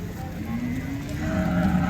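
A pregnant cow, about three and a half months in calf, lets out a long, drawn-out moo at a cattle market, the low rising call close and clear over faint background murmur.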